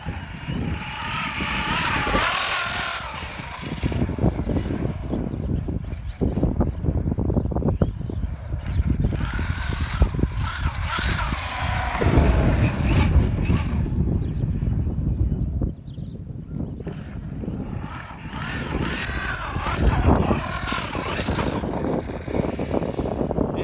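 An Arrma Kraton EXB radio-controlled car runs on pavement, its electric motor whining and roaring continuously with rising and falling throttle, tires hissing over the asphalt, loud and close throughout without talking.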